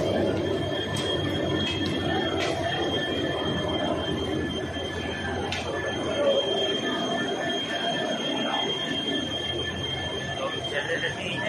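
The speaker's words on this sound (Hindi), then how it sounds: "ये रहा पूरा पीछे रेलवे स्टेशन" Steady rumble of trains at a busy railway station in Delhi, with the squeal of wheels on rails and a crowd's chatter in the background, continuous and close throughout.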